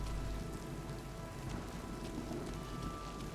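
Steady, dense rainfall in the video game Oblivion Remastered, a constant hissing patter of drops on surfaces with a low rumble underneath, quiet and unbroken throughout.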